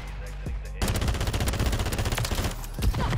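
FAMAS rifle fire in Call of Duty: Modern Warfare 3, a rapid close-up string of burst shots hammering out after a short quiet start, with a final shot near the end.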